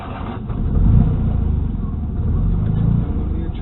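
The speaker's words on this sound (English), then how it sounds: "So what we're going to do is go for a drive." A 1970 Fiat 500L's small engine idles and revs close by, a low throbbing rumble that swells around the first second and again near the third before settling.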